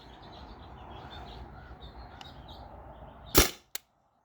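A modded Byrna TCR launcher running on HPA fires a nylon or rubber ball with one sharp, loud outdoor crack. A quick smaller snap follows, set against faint background ambience.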